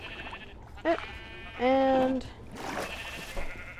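Sheep in a Minecraft-style blocky video game let out two bleats, a short one followed by a longer wavering one, with a few quiet words from a player nearby.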